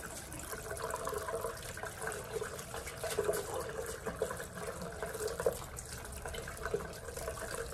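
Rice is rinsed under running tap water in a small strainer, giving a steady, soft splashing flow that lasts throughout at low level.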